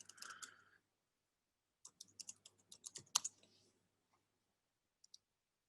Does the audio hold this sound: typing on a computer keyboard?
yes